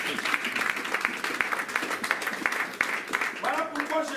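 A church congregation claps and cheers in acclaim of Jesus during a French-language prophetic sermon, with uneven bursts of hand claps mixed with raised voices and shouts throughout.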